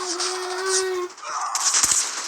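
Gunfire in the video game Call of Duty, bursts of sharp, dense shots over a loud, busy mix of in-game sound effects and tones, close and continuous across the stretch.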